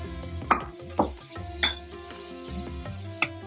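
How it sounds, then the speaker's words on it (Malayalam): Chopped onion hits a pan of browned coconut for Kerala-style beef fry, and soft sizzling follows. Several light metallic clinks of a spoon against the pan land about every half second. "സവോള അരിഞ്ഞതിടുന്നു"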